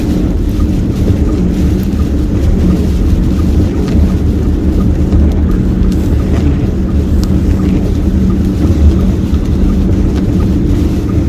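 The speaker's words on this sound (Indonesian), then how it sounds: "Hujan tampak begitu deras." Heavy rain pours down in Mecca during a storm, a loud, steady roar mixed with wind buffeting the microphone and a low rumble that could be thunder, continuous for the whole stretch with no talking.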